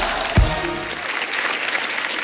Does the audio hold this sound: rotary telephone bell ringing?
no